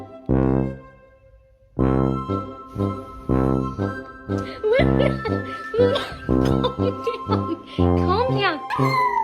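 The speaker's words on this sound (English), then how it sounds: "I don't howl. I sing from my soul." A dog howls in a series of long, tuneful, rising and falling cries, close and loud, with brief pauses between the phrases and some sliding whines toward the end.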